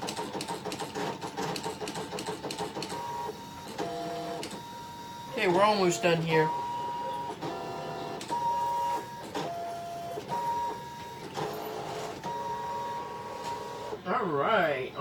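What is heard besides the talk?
Brother ScanNCut cutting machine running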